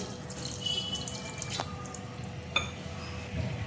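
Water trickles and splashes into a vessel holding jaggery, with soft drips and a couple of sharper splashes, close by and fairly quiet.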